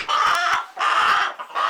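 A backyard chicken clucking loudly and close, in three repeated bursts of raspy squawks with short breaks between.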